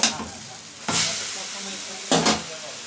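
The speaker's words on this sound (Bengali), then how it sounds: "এবার আমি হলুদটা দিয়ে ভালো করে নেড়ে" Pumpkin greens with turmeric are stirred in a hot frying pan, with two or three loud scraping sweeps over a steady, close sizzle.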